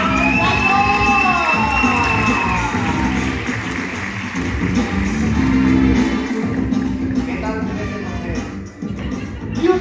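A studio audience at a Spanish-language comedy show applauds and cheers a contestant named Oro. Dense, steady clapping fills the whole stretch, with whoops and shouted voices rising above it early on.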